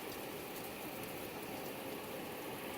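Heavy summer rain pouring down: a dense, constant hiss of downpour without breaks, steady and fairly loud throughout, with no voices.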